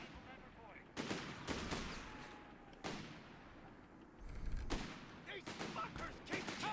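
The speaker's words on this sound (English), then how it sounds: "MG on the field for UMirin." Machine gun fire in Company of Heroes 3 during a tournament match: sharp, spaced bursts and single reports, fairly distant and faint, with battlefield rumble between them.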